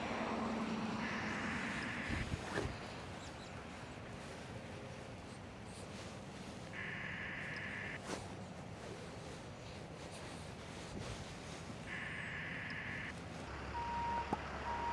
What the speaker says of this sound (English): that beeping noise ain't very good for the video